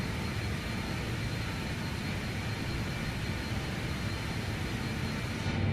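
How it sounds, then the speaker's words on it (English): Engines of a BAe 146-100 'Whisper Jet' in a flight simulator game drone as a steady, dense, broadband roar with heavy low rumble, loud and unbroken throughout. "now I'm going to turn down the whisper jet because she's a little loud"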